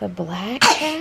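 A child asks a short question and then sneezes once, a sudden loud burst right after the speech.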